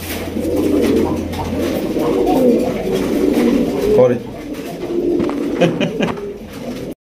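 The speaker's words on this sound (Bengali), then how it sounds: "এখানে রয়েছে আরো একটা কালারিং রাসগোল্লা কবুতর" Rasgulla coloured pigeons coo softly in low, rolling calls amid a busy flock, with a person talking over them throughout.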